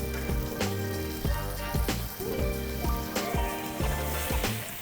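Meat searing in a hot pan with butter, rosemary and garlic, a steady crackling sizzle with scattered pops and clinks of utensils throughout, no voices.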